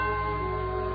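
A doorbell rings as a sustained, steady chime with clear bright tones, lasting about a second without a break in a quiet indoor setting.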